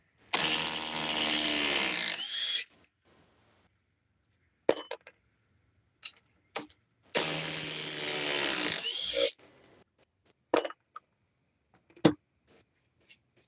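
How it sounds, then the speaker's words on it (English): A cordless impact driver, model 860, runs in two long bursts of about two seconds each, loud and close, separated by short clicks and clatter of handling. "they are coming out with a new impact driver, but I don't see it putting out this power the 860 has"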